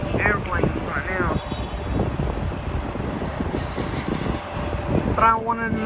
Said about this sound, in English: we're actually watching airplanes right now.